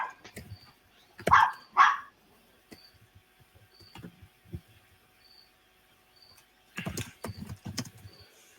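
A dog named Daisy barks in two sharp bursts close by, then again in a louder cluster near the end, with quiet room noise and faint clicks between.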